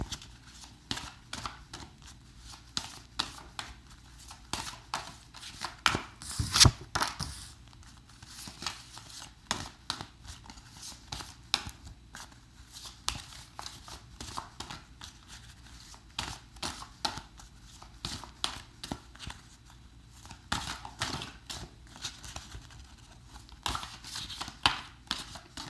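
Tarot cards are shuffled over and over, giving soft, uneven bursts of riffling and papery slapping that stay quiet and close throughout, with no talk over them.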